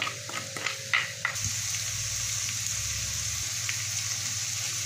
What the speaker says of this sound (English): So let's start with our chopped onion. We're gonna add that to the pan, and we're quickly gonna fry that.